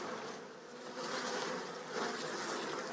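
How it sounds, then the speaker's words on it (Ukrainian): Honey bees buzzing steadily and fairly close as they are gently brushed off a brood frame during queen rearing, a continuous droning hum with no talk. "Отак акуратно бджолу змітаємо щіточкою"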